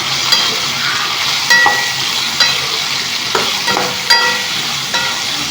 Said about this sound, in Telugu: తగినంత సాల్ట్ వేసుకోవాలి వేసుకొని కలిపిస్తున్నాము